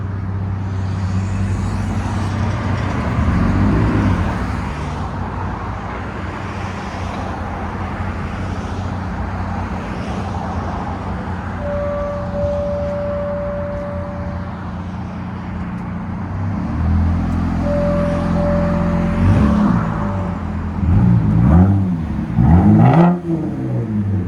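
A RAM pickup's 3.6L V6 breathing through an aftermarket muffler, idling with a steady low rumble before a few sharp revs climb and fall near the end, loud and close.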